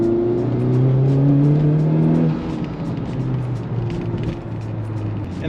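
Honda Civic Type R with a 27WON front pipe and 3-inch exhaust system, in Type R mode, revving in third gear: a loud, close engine rising in pitch then dropping back to a steadier drone.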